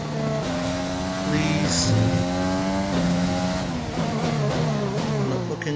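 F1 2020 video game race car engine screaming steadily at high revs, pitch stepping through gear shifts with a brief tire squeal, loud and continuous throughout.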